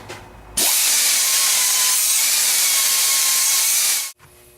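Grinding on a metal part of a roto spader, braced with an Allen wrench. One loud, steady, high-pitched grind runs for about three and a half seconds without a break, then stops abruptly, with no talking.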